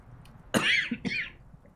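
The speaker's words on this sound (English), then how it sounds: "because I felt that cough coming" A single quiet cough in the detective role-playing game Disco Elysium: a short two-part hack with a brief gap, alone against a faint background.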